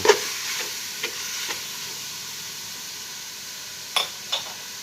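A spoon scrapes and stirs khanom jeen nam ngiao curry in a pot, with a few soft clinks and a steady low sizzle, quiet and close with no talking.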